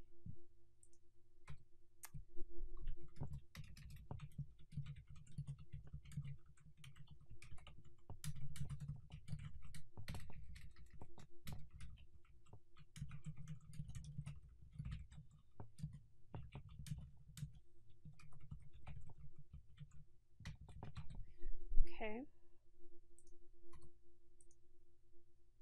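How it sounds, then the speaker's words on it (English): Typing on a computer keyboard, with quick irregular clicks and clacks in uneven bursts over about 25 seconds and occasional louder key strikes. The sound is fairly close and quiet, with a short tonal blip near the end and no talk. "just typing in my content"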